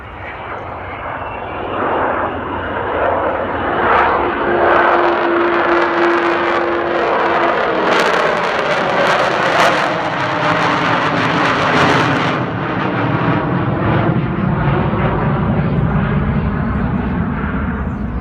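An Avro Vulcan XH558 bomber, a 1952 design, passes at a Church Fenton air display, its jet roar swelling loudly to a peak with a howling whine, then rumbling on as it recedes.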